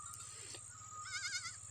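An abandoned baby goat cries out while its mother grazes away from it. A single wavering, quavering bleat rises partway through, fairly faint over a low steady background hum.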